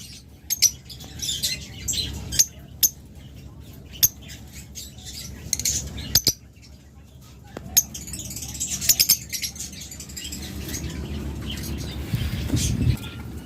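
A pair of cockatiels offered for sale calls out in short, sharp chirps and tweets, scattered irregularly over a quiet background with occasional clicks and rustles nearby.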